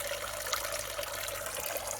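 Air stone bubbling oxygen up through a koi pond, a steady dense hiss of bubbles and water churn, continuous and fairly close with no talk.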